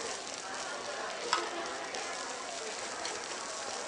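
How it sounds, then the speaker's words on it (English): Artichokes and tomatoes fry in hot oil, giving a soft, even, continuous sizzle with a faint crackle, heard alone at fairly low volume. "So to this hot oil, I'm going to add the artichokes and tomatoes."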